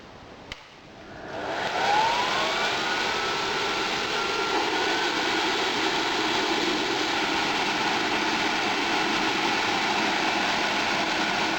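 An electric air blower for a metal-melting furnace is switched on and spins up within about two seconds, then runs with its inlet blocked off, a steady loud whooshing whine with a faint rising tone.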